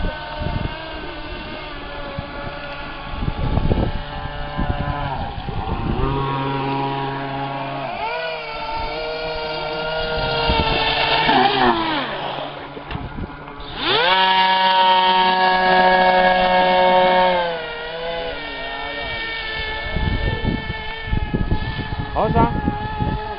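A small electric motor for an RC airboat running: a high whining hum that rises and falls in pitch over several bursts, near and loud, with people talking over and between the runs.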